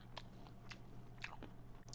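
Crunchy bites and chewing of a raw carrot, apple and nut salad with orange juice, several sharp crisp crunches spaced through a quiet room, close to the mic.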